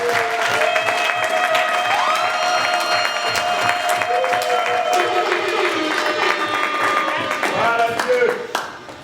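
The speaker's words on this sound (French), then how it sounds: "Applaudissons pour lui." Audience applause at a surprise birthday celebration, a steady wash of clapping and cheering held throughout at close range, with music and voices mixed in.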